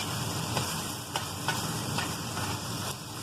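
Goat liver (kaleji) frying on a tawa, dhaba style, giving a steady close sizzle with faint stirring clinks now and then and no voices.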